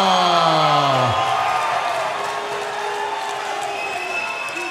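A fight-night crowd cheers and applauds for kickboxer Jeremy Puglia at Triton Fights 6, a dense, steady roar of voices and clapping that stays loud throughout while a drawn-out announcer's voice fades at the start.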